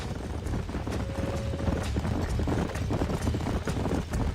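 Horse hooves gallop steadily in the Red Dead Redemption video game, a continuous rapid clip-clop of several hooves up close under a low rumbling game ambience.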